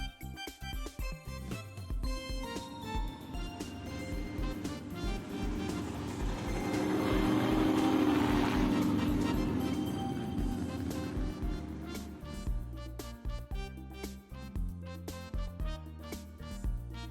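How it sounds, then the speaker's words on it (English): A sports car passes by, its engine roar swelling to a peak mid-clip and fading again over background music. "Sports car."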